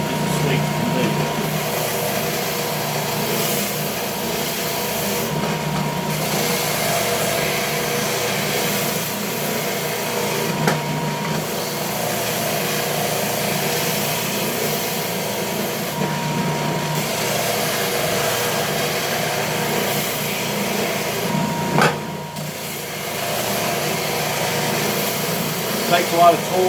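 A Ridgid belt/spindle sander works the edges of yellow pine with 180 grit, holding a steady, loud whirring drone throughout while someone talks over it.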